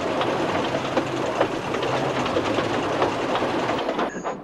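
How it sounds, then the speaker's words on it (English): A circus train runs steadily on rails, a continuous loud rumbling clatter that fills the whole stretch, ending with a brief high squeal. "Derek took the circus train to Mayfwaite."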